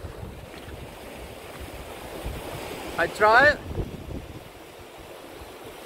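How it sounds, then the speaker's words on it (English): River water rushing on a hiking trail in Scotland, a steady broad roar mixed with wind buffeting the microphone, with a brief spoken phrase partway through. "So I'm stuck here in this river."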